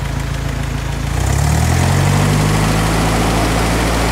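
Engine of an antique Hobart welding machine running close and loud, a steady low rumble that swells and settles into an even drone after about a second, no talk.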